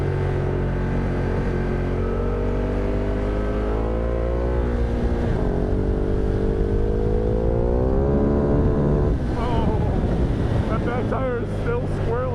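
A Ducati Multistrada motorcycle on Michelin Road 6 road tires revs steadily on dirt, its engine note climbing and falling while the rear tire spins, heavy wind noise over the microphone throughout.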